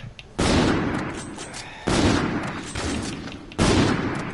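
Gunfire in a video game: three heavy, booming bursts of shots a bit under two seconds apart, each loud and sudden and then trailing off, with no one talking.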